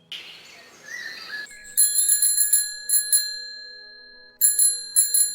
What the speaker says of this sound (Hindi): घंटी की आवाज सुनते ही हर रोज की तरह कुकू अपने घर से निकलता है